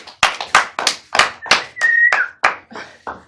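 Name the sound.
lecture audience applauding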